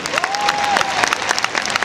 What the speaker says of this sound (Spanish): un aplauso para Roberto Alegre